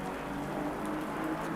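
Steady rain hisses during a sim racing qualifying session at Barcelona in a GT Cup race. It forms a dense, even wash of drops under a low engine-like drone, and nobody speaks.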